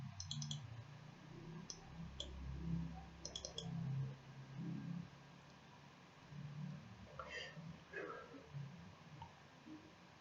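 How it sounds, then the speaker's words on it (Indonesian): Computer mouse clicks while working in ETAP 12.6.0 electrical single-line diagram software. Several faint, short ticks are scattered over low room noise with a murmur of voice in the background. "kita klik 2 kali."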